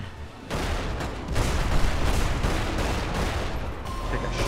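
Shotgun blasts and heavy gunfire in the action game Magicka, a loud, dense barrage that starts abruptly after a half-second lull and keeps rolling for several seconds, with some faint chatter mixed in.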